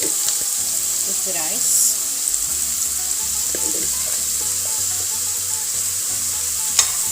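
Chicken and broccoli stir-frying in a pan, a steady close sizzle with scraping of a utensil and brief clanks, while a person speaks briefly over it.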